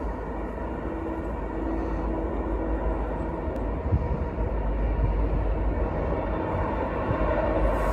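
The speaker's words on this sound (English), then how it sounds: "A train coming." A CN freight train rolls by on the Fulton Subdivision, a steady broadband rumble of wheels and cars that stays loud and constant throughout with no voices.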